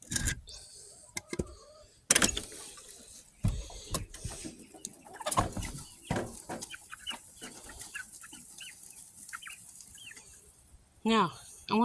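Young chickens cluck and peep in scattered bursts nearby, with rustling and thumps between calls and a person speaking intermittently over the birds.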